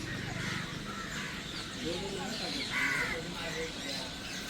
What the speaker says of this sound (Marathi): पक्ष्यांची चिवचिवाट असते